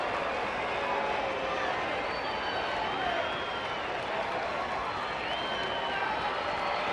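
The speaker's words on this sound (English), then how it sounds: "The Angel fans standing, cheering for the final out of the ball game." Angels fans at a baseball game standing and cheering for the final out, a steady, distant wash of crowd noise and applause at a constant level under a broadcast announcer's voice.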